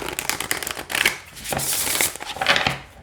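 Thin, large-size oracle cards are riffled and shuffled by hand in several quick bursts of papery flutter and snapping, close up, with no voices.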